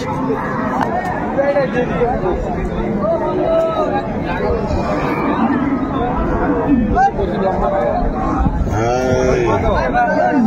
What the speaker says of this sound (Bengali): এখানে একটা গাভী বাছুর, বেশ সুন্দর